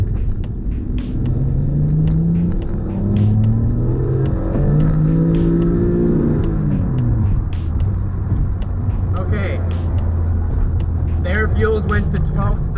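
A turbocharged street car accelerates hard in second gear, and the loud engine drone climbs and then settles from inside the cabin, with some talking and scattered clicks over it.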